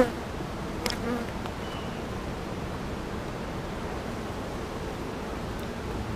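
Honey bees from a calm backyard hive during a routine spring inspection give a steady, close, low buzzing drone that holds even throughout, with a faint rustle near the start and no voices.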